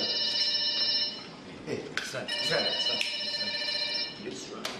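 A telephone rings with a bright, sustained electronic trill that runs through most of the moment, while people talk and move around nearby.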